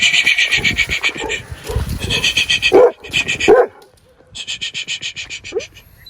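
A puppy barking close by in several bursts of rapid, high-pitched yaps, with short pauses between volleys and a louder yelp or two in the middle.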